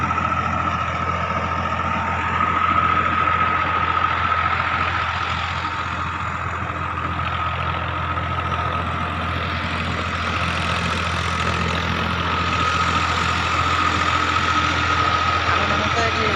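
A tractor engine idles steadily and close by, a constant low rumble with a faint whine, running without pause throughout.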